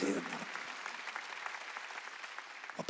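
Members of a church congregation at a Wednesday worship service break into sustained, even applause, with a brief voice at the very start before the clapping carries on alone.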